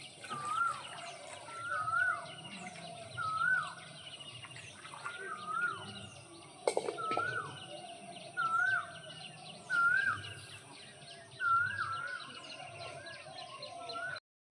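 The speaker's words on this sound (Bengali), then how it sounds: "গ্রামে থাকলে তোমরা সকালে এরকম পাখির আওয়াজ শুনতে পাবে" On a village rooftop in the morning, a bird repeats the same short, bright whistled phrase at a steady pace. Fainter chirps and twitters from other birds fill the background.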